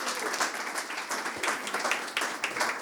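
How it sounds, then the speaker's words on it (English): Warm applause from a seated audience at a library discussion panel, dense clapping with a slightly uneven pulse throughout, moderately loud and without talk. "Give her a round of applause, please."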